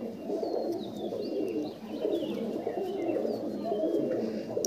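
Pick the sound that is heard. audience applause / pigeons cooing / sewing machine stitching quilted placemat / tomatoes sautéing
pigeons cooing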